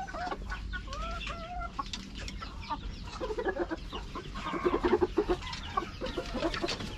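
Chickens clucking and squawking inside their coop, close and fairly quiet, with scattered cackles and a few louder bursts of clucking.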